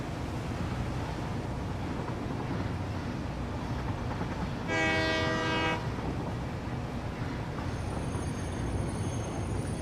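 A moving train in the video game Satisfactory rumbles steadily throughout, with a loud horn blast sounding for about a second midway over the continuous rolling noise.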